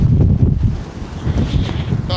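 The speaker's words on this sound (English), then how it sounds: "That's a bit windy out there, a little bit brisk" Strong storm wind buffets the microphone in a loud, continuous rumbling roar, with faint sounds under it, outside a van while winter camping.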